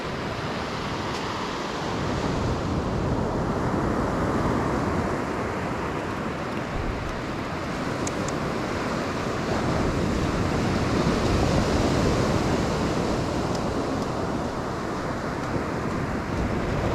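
Surf rolls steadily onto Tengah Beach on Langkawi Island, a broad continuous wash of breaking waves with gentle swells in loudness and some wind buffeting, with no voices.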